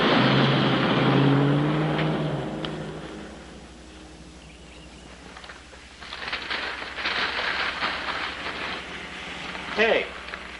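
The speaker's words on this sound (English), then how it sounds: "Funny, that sounded like a car." A car is heard outdoors as it approaches and passes, a broad rumble that swells in the second half and then fades, with a brief voice and quieter stretches around it.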